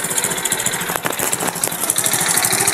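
A motorcycle engine runs just after being brought back to life during troubleshooting, a steady loud idle with rapid knocking pulses and a bright mechanical rattle, close up and without talk.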